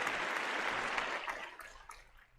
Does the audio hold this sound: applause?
yes